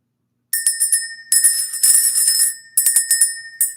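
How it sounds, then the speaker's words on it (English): A small clear metal bell rings in bright shimmering bursts, struck in quick clusters of several strokes with short pauses between them, loud and close in an otherwise quiet room. "Let's ring the bell."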